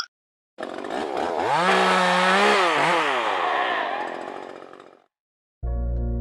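A chainsaw roars loudly for several seconds, its engine pitch rising and falling as it revs, then cuts out before a brief low buzz restarts.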